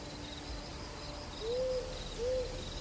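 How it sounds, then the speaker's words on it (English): At night, insects chirp in a steady high drone while an owl hoots twice, soft low calls rising over the background hum of the wild. "the chirping of insects, the call of an owl"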